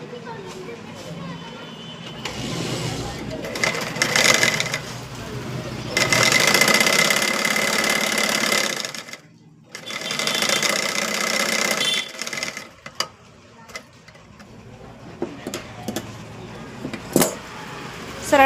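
A sewing machine double-stitches a cloth strip for a blouse in bursts of rapid mechanical whirring, separated by pauses and soft handling clicks, with a voice talking at times.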